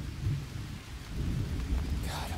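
Rain and rolling thunder in the jungle survival game Green Hell, with a steady downpour and deep low rumbles swelling and fading, plus a brighter crackle of rain near the end.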